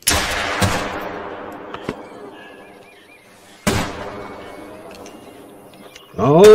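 A .243 handgun fired at a coyote in the hunting game theHunter: Call of the Wild, two loud sharp shots a few seconds apart, each with a long echoing tail, before a voice starts at the end.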